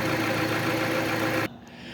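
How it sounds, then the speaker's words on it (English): A Jeep Patriot's 2.4-litre four-cylinder engine idles steadily up close, a continuous mid-pitched hum with a low steady drone, then abruptly drops to a quieter, thinner running sound near the end. "Okay, with the motor running,"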